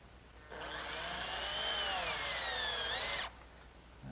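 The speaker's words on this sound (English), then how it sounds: "I'm just going to take a screw and partially drive it in to sort of give me like a pilot hole." A power drill drives a screw partway into wood to start a pilot hole, a steady whining motor run of under three seconds whose pitch dips slightly near the end before cutting off, alone and close.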